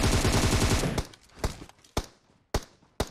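Gunfire in the PUBG Mobile video game: a rapid automatic burst for about a second, then four single sharp shots spaced roughly half a second apart.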